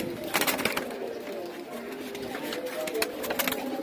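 Caged pigeons coo in soft, repeated rolling calls close by, with voices talking over them throughout.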